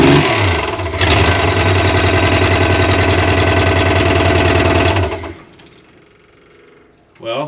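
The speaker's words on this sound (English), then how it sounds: "Yeah, there's a rod knock there." Ford Econoline van engine idling loudly and steadily for about five seconds with a rhythmic rod knock in its beat, then cutting off, with a voice briefly heard near the end.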